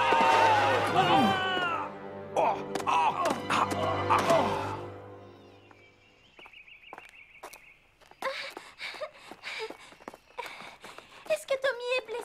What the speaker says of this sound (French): Un cheval m'a aidé, c'est lui qui m'a conduite jusqu'à Tommy